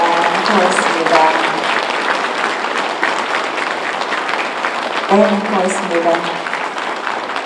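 Loud, steady applause from an audience at a book launch celebration in Gokseong, sustained throughout as a voice speaks over it briefly.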